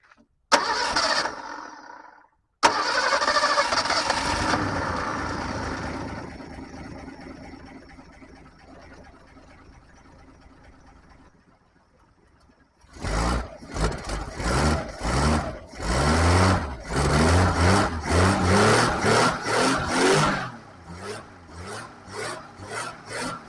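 A 1962 Ford Falcon engine is cranked and started with no choke hooked up, sputtering through attempts before catching and running with a loud, uneven, pulsing idle close by.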